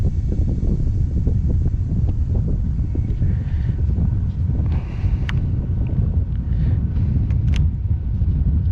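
Steady wind rushes and buffets across a fishing boat out on Lake Guntersville during a bass fishing trip, a loud continuous low roar with no break, over a faint background drone.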